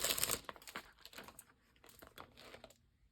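Plastic sticker sleeves crinkling as they go into a binder, a burst of close crackly rustling at the start, then softer intermittent crinkles and taps that fade out.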